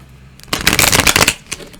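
A deck of Buffy the Vampire Slayer tarot cards is riffle-shuffled up close, a dense crisp flutter of cards lasting under a second, then a single soft tap as the deck settles.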